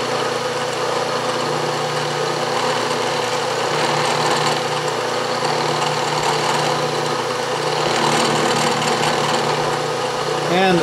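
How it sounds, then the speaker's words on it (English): A carbide cutter mills metal on a milling machine, making a loud, continuous droning whir with a gritty cutting texture that swells slightly a few times. "This is a carbide cutter. I'm only using it because it was already in the mill."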